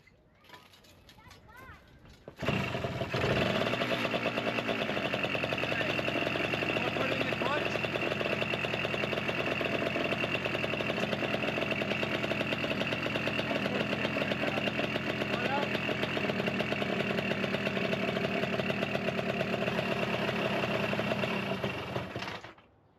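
A 1976 Honda MR175 Elsinore motorcycle engine kicks into life after a few seconds and settles into a loud, steady, rattly idle up close, running continuously until it cuts off at the end.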